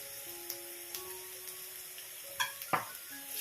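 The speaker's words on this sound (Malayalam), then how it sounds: "കറിവേപ്പിലയും കൂടി ചേർത്ത് ഇതൊന്ന് വഴറ്റിയെടുക്കാം. ഈ ഉള്ളി ഒന്ന് വഴറ്റിയെടുക്കാം." Onions, green chillies and curry leaves sautéing in a pan for a Kerala ulli theeyal give a soft, faint sizzle, broken by a few light scrapes and clinks of a spoon toward the end; no talking.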